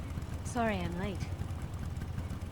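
Low, steady vehicle engine idling in the Metal Gear Solid Delta video game, a continuous rumble under a short spoken line.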